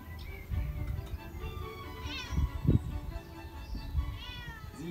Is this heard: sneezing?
no